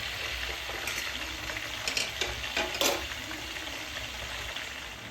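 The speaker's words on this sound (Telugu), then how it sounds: "ఇలా ఆయిల్లో వేసేసి బాగా మగ్గనిచ్చుకోవాలి మనం" Chicken pieces cooking down in oil for a north-style biryani, a low, steady background sizzle with a few faint clinks and stirring scrapes near the middle; no voices.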